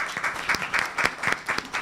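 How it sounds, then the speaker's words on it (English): Applause from a debate competition audience after a speaker's time ends, steady dense clapping throughout at moderate level, with no voices over it. "Can we give them a round of applause?"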